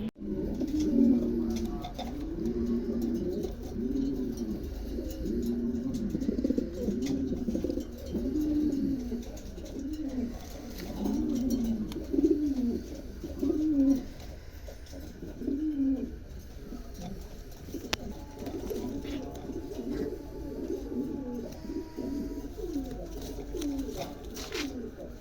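Bokhara pigeons, including a pair of large-headed black birds, coo continuously in a repeating throaty rhythm, close and fairly steady, with low background noise and no talk over them.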